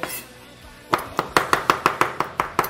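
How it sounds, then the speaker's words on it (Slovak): Knife finely chopping vegetables on a board for rice, a quick even run of about a dozen sharp, close taps after a brief quiet start. "trošku podsakáme tak nadrobno"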